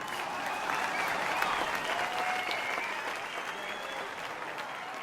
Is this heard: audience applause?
yes